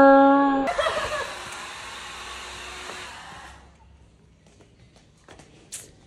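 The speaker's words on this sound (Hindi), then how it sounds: "और मैंने हेयर ड्रायर जला दिया छुट्टा" A hair dryer blows with a steady whooshing hum for a few seconds, then switches off and leaves near silence with faint rustles and a small click near the end.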